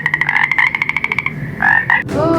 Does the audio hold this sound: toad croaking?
yes